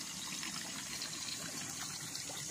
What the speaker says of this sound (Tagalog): yung mismong tubig nandyan sa nanggagaling sa lupa maagos po siya